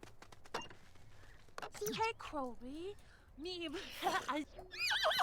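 A horse neighs in The Sims horse ranch game, with several wavering whinnies and snorts between soft thuds, while a person talks through part of it.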